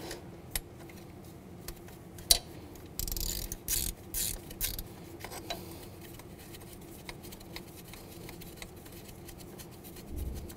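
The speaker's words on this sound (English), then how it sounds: "Take that one off, use the same socket." A ratchet socket wrench loosens a 10 mm bolt during water pump removal on a 2010-2017 Chevrolet Equinox, with sparse ticks followed by a few short bursts of quick ratcheting clicks, close and fairly quiet.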